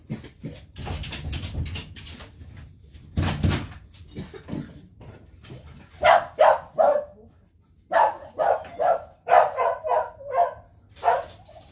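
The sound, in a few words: dog barking at the door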